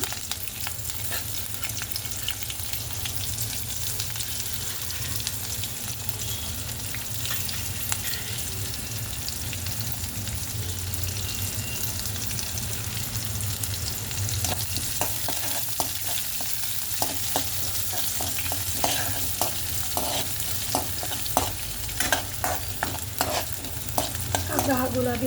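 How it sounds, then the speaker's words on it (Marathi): Onion fries in oil with cumin, mustard seeds and curry leaves, a steady sizzle running throughout, and stirring grows busier in the second half with rapid clattering scrapes of a spoon against the pan. "कांदा हा गुलाबी रंगावर तळला गेला।"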